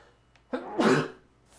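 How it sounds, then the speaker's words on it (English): A single sneeze, close and fairly loud, with a short intake of breath followed by one abrupt burst that fades out within about half a second. "I'm gonna sneeze."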